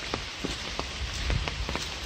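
Rain falling steadily beside a fish pond where perch climb the banks, a dense patter with scattered individual drops landing close by and a low rumble underneath.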